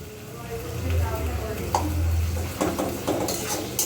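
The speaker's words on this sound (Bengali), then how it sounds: "চলো এই যে ভাজছি, নাড়াচাড়া চলছে আমার" Chowmein with onion, potato and tomato being stir-fried in a pan, with soft scraping and stirring strokes, light sizzle and a few utensil knocks, fairly close, with a low hum underneath.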